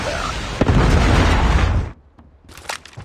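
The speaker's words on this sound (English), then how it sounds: "Friendly Predator missile" A Predator missile explosion in Call of Duty Mobile: one loud, dense, roaring blast that rumbles for almost two seconds, then cuts off sharply, followed by a few faint crackles and pops.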